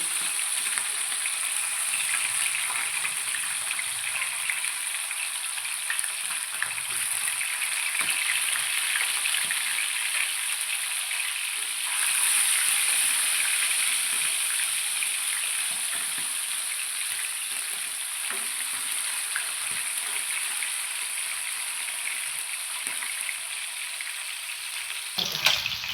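Fish cut into pieces fries in hot oil, a steady loud sizzle running throughout with soft scraping and stirring as the pieces are turned, close up with no talking.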